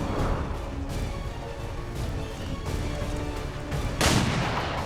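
Gunfire in the video game XCOM 2: several sharp reports and booms in a few seconds, the loudest near the end, over a continuous game background rumble.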